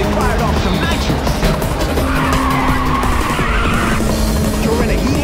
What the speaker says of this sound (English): Fired off some nitrous.